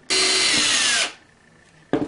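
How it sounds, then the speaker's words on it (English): Close, loud whine of a power drill boring pilot holes into the underside of a homemade switch enclosure, one steady burst of about a second that winds down, then a second short burst starting. "Now I'm going to drill pilot holes on the bottom here."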